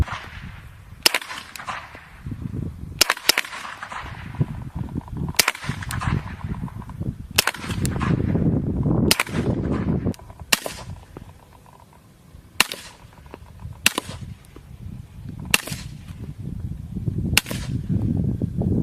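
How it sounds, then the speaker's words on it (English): An M9A3 pistol fires about a dozen single shots, some suppressed and some unsuppressed, with different ammunition. Each is a sharp crack spaced a second or two apart over a rumbling background. "that was the M9A3, or the suppressed pistol, both suppressed and unsuppressed with different kinds of ammunition"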